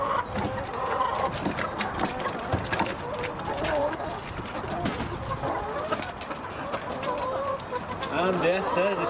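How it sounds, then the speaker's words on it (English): A flock of about 23 chickens clucks and squawks busily after leaving their coop in the morning, overlapping calls close by with a person talking among them. "we're going to open the door and see how many chickens we got"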